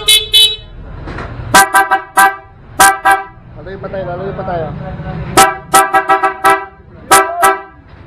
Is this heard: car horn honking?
yes